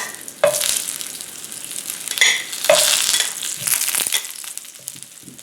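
Vegetarian satay and meatballs pan-frying in a hot pan, a steady loud sizzle with bursts of crackle and the scrape of stirring, no voices.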